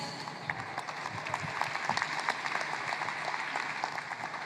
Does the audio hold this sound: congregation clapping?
yes